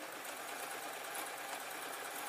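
A sewing machine runs steadily, sewing the fur fabric of a hedgehog pyjama case in one brief, continuous, fairly faint whir with no talking.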